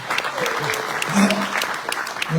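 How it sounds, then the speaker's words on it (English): An audience claps at a Wall of Fame 2022 ceremony, a moderate run of applause with scattered cheers and voices mixed in throughout. "but you can still clap for him."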